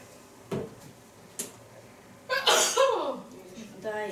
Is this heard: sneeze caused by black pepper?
yes